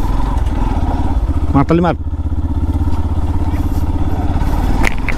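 Yamaha motorcycle ridden on a road, its engine a steady close drone under someone talking almost throughout.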